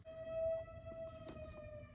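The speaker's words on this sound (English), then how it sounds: "that's the siren that always makes me feel like I'm living during a war" A siren sounds outdoors as a sustained steady wail, moderately loud for about two seconds, with no voices over it.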